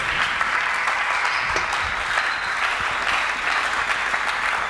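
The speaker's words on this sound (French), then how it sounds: "Acclamons très fort pour le roi des rois" A church congregation claps and cheers loudly during a Sunday sermon, a dense, sustained wash of applause with scattered sharp claps running through the whole stretch.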